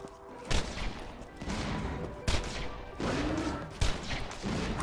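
Heavy gunfire from a gun in the video game Borderlands 2, slow sharp shots at a steady pace with loud broadband bursts over dense game noise.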